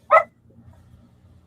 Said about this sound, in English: So there's the old dog, just like clockwork.